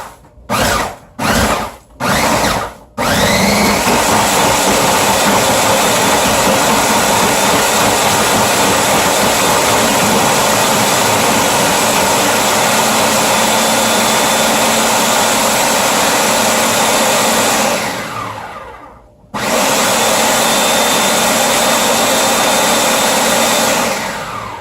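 Food processor grinding bar soap with OxiClean for homemade powdered laundry detergent: a few short loud pulses, then a long steady roaring whir that stops briefly and starts again, loud and close, with no voices.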